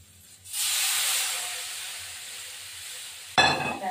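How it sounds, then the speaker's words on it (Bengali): A splash of water hits small fish frying in hot oil, bursting into a loud steam hiss that slowly fades, then a sharp crackling spurt near the end, close by with no speech. "তেল একটু ভেজে নেবো, একটু সামান্য জল দিয়ে দেবো"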